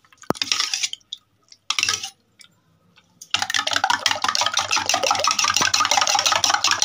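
Eggs being beaten in a deep vessel for an omelette, with a few short splashy strokes and then a long continuous fast whisking rattle, close and loud.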